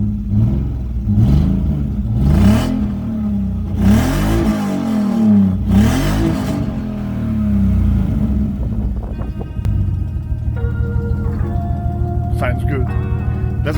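BMW E46 Compact with an M54B25 straight-six engine revving: several close, loud rising and falling revs, then the idle settling, with a person talking over it.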